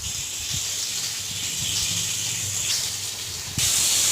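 Oil sizzles in a wok with whole cardamom pods and onion, giving a continuous loud hiss that jumps noticeably louder near the end. No talk is heard over it.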